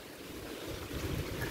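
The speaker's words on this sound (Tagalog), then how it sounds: "lakas ng hangin ngayon." Strong wind roaring steadily outdoors, a dense broadband rush with low buffeting on the microphone, no voices.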